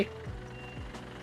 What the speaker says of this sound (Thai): เสียงถอยก็ยังอยู่ไว้นี่คันนี้